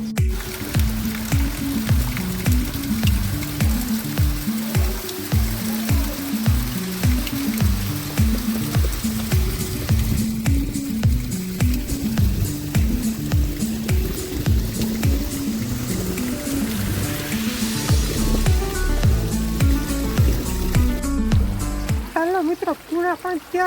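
Heavy monsoon rain in a Gujarat village, a dense continuous wash with rhythmic drumming on a surface close by, sustained throughout and ending in a few scattered drips.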